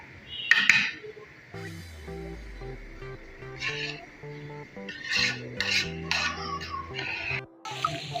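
Rice is gently stirred in a pot for mutanjan, with soft scraping and rubbing strokes in short bursts over background music.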